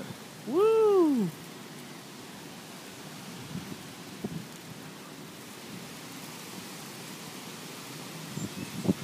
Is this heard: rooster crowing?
no